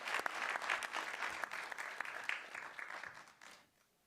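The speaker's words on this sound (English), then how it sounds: "We can clap for this group as they come up." Audience applause at a school board meeting as a group of board-certified teachers comes forward, a steady wash of many hands clapping that tapers off and fades out near the end.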